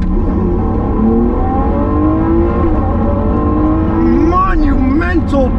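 Supercar engine revving hard as it accelerates from about 3,000 RPM in second gear, a loud, continuous rising harmonic roar close up that climbs steadily before shifting near the end.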